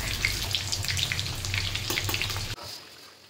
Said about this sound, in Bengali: প্রথমে কেটে রাখা আলুগুলো ফ্রাই করে নিই